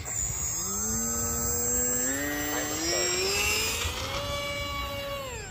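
A Hobbyzone Aeroscout RC plane takes off, its electric motor whining upward in pitch as throttle rises, then steadying and easing back as it climbs away, fairly faint over outdoor wind.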